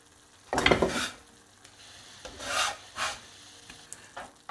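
Eggs frying in a pan are stirred in a home kitchen, a few scraping, sizzling strokes coming in separate bursts with short quiet gaps between them.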